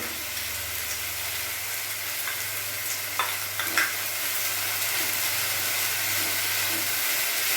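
Ginger, garlic and chili paste frying for a katla fish rezala, giving a steady close sizzle throughout with a few brief stirring clinks near the middle and no voices.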